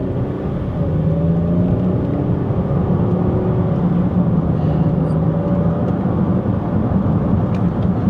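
Used car at an auto auction test track driving off and running up through its gears, steady engine hum with gentle shifts, heard from inside the cabin with little else over it.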